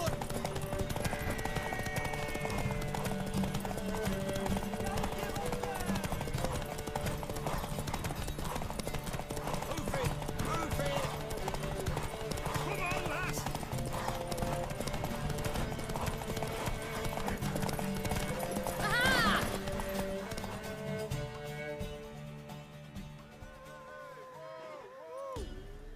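Rhythmic clip-clop of horse hooves runs steadily through a Witcher 3 game scene in the city of Oxenfurt, layered with game music and a brief neigh before the hoofbeats fade out near the end.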